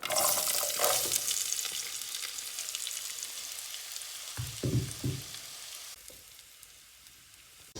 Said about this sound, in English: add the onion and cook until soft.